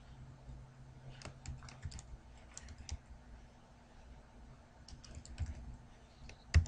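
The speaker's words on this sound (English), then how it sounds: "start typing out just some basic HTML5 coding" Soft typing on a computer keyboard while entering basic HTML5 code, light irregular bursts of keystrokes close by against a quiet hum, with pauses between clusters and a louder knock at the end.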